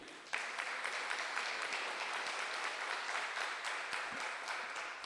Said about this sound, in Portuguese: dar mais uma salva de palmas para Jesus?